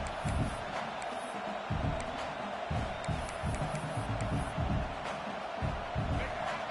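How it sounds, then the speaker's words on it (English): A packed college football stadium crowd roars early in a game, a dense, steady wall of cheering with brief whoops swelling and easing throughout. "Listen to the crowd energy here in the early going."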